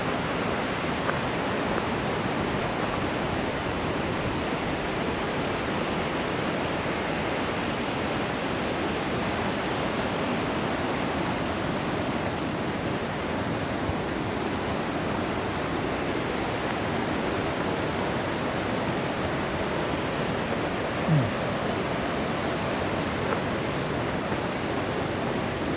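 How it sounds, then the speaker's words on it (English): Steady, full-bodied roar of a waterfall seen from the Bunsen Peak loop hike near Mammoth in Yellowstone, a continuous rushing wash close by with no talk over it. "that's probably a pretty good waterfall then"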